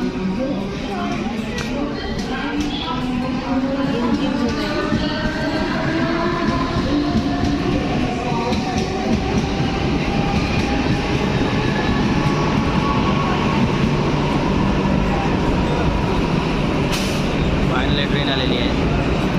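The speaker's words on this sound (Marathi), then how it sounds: "ट्रेन आलेली आहे." A train pulls into a station platform near the Mumbra Devi temple, a steady loud rumble of railcars rolling in alone, continuous and close throughout.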